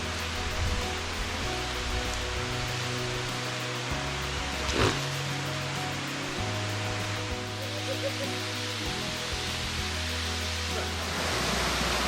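A waterfall in the Blue Mountains gives a steady, broad rushing wash of falling water, moderately loud and unbroken, with faint low rumbling beneath and no clear talk.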